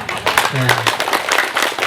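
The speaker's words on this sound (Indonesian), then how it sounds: "kita berikan tepuk tangan yang meriah" Audience at an Islamic gathering gives lively applause, a dense wash of clapping throughout with a brief voice or tone near the start.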